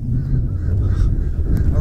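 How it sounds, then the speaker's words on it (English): Wild geese honk outdoors on a farm, a loud close flock giving a rough chorus of overlapping honks that goes on steadily without pause. "Those wild geeses, look at them."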